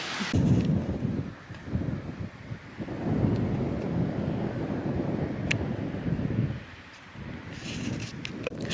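Heavy wind buffeting a microphone outdoors near Mont Saint-Michel, a loud rumbling low roar that surges and dips in gusts, with a brief lull near the end.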